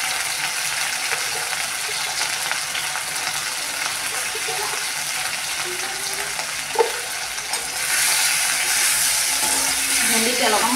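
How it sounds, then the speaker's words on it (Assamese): Okra and potatoes fry in hot oil in a kitchen pan, giving a steady close sizzle and hiss that grows louder and brighter near the end, with a brief clink partway through. "এইফালে তেল গৰম হ'ল এতিয়া মই ভেন্দি আৰু আলুখিনি ভাজি লওঁ"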